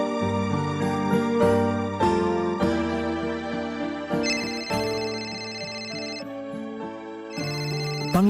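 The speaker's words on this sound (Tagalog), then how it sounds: "Pang-5 beses na yung tawag ni Ara." A phone ringtone signals an incoming call: a bright, repeating electronic melody plays steadily and loudly for the whole stretch, with no voices over it.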